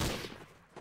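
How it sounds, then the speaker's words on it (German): Gunfire in the video game Trouble in Terrorist Town: a loud burst of shots opens the moment, then fades into quieter, scattered reports. "Ja, hier in dem einen Raum sind Schüsse ohne Ende."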